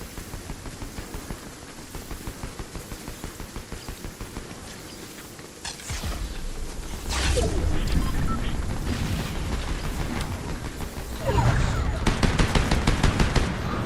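Continuous rapid gunfire from the video game Fortnite crackles throughout, with louder bursts and booms joining partway through, dense and loud with no talking.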